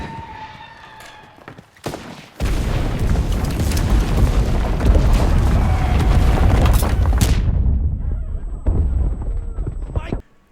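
A grenade detonates in the World War II shooter Enlisted, unleashing a heavy, booming blast that rumbles loudly for several seconds before cutting off, with faint battlefield sounds before and after.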